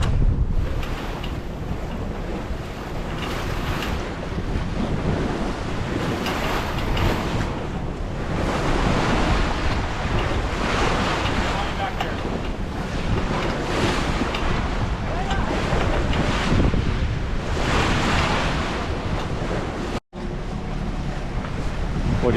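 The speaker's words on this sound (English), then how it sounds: "The waves are pretty high, but it's cool." High ocean waves break and surge around a sailboat leaving St John's in stormy conditions, a constant heavy roar mixed with wind buffeting the microphone.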